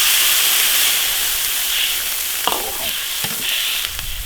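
Water poured into a hot iron wok of beef tendon with Sichuan peppercorns, chilies and spices sizzles with a loud, steady hiss, close up, with a few clanks of a spatula stirring.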